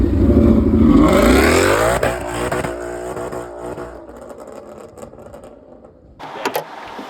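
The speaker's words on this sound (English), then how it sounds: "a Corsa exhaust, which is mentally loud" A Ford Mustang fitted with a Corsa exhaust and a Whipple supercharger revs loudly up close, the engine note climbing sharply and then falling back to a rumbling idle, with a brief extra blip near the end.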